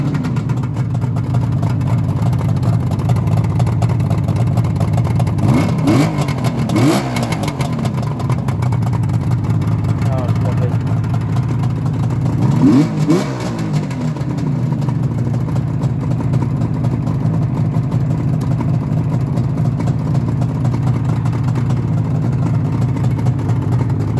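A warm Suzuki GT750 motorcycle with a 750cc three-cylinder two-stroke engine idles steadily close by, a continuous buzzing drone with two brief blips of throttle.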